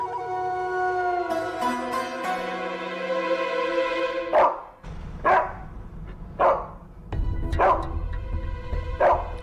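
A dog barks at a wedding: about six sharp, close barks come in a steady series after a few seconds of music.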